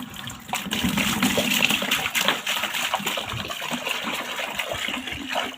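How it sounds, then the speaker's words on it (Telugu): Water is poured out of a tub or bucket while a saree is washed, a continuous splashing gush that stays loud and close for several seconds with small surges and trickles. "ఇప్పుడు ఈ వాటర్ పడేసి మళ్ళీ వేరే తీస్తాను"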